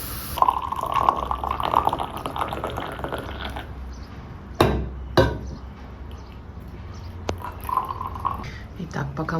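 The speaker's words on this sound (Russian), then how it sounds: "пока мой супруг наливает нам вкусный турецкий чай" Turkish black tea mixed with bergamot tea is poured into cups in a home kitchen, a steady trickle with small clinks and drips, close, while someone talks over it.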